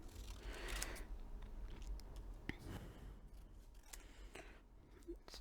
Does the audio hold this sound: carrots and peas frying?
no